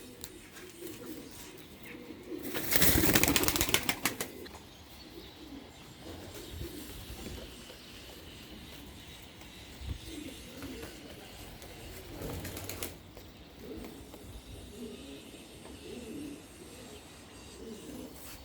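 Pigeons cooing softly in a loft, with a brief loud burst of wing flapping early on and another short flutter later, steady low coos continuing throughout, no talking.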